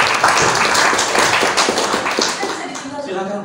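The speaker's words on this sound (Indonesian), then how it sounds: "Tepuk tangan dulu untuk Mbak Olin." An audience at a mosque library event claps for Mbak Olin, a short burst of hand clapping mixed with voices talking, tapering off after a few seconds.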